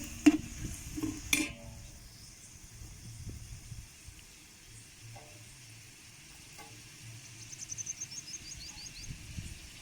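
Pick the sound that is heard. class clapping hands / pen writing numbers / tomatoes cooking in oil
tomatoes cooking in oil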